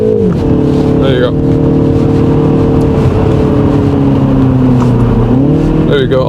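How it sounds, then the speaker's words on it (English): Petrol engine of a 2024 Mini Cooper S pulling steadily while driving, a loud continuous drone that dips and rises with gear changes near the start and end, with a voice talking over it. "The engine's there, you can hear it."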